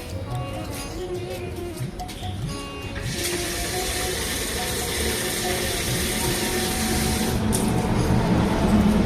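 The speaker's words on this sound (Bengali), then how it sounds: "প্রত্যেক দিন ঝাড় দেওয়া হয়ে গেলে আমি কিন্তু আমার দুয়ারে একটু জল দিয়ে দিই" Water is splashed onto a doorstep after sweeping, a steady broad wash of hiss and spatter that swells after a few seconds and continues to the end.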